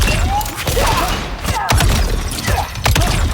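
Cyrax setting up a double bomb in Mortal Kombat 1: dense, loud game combat audio with thuds, clanks and explosive bursts layered over constant background noise, with no clear talking.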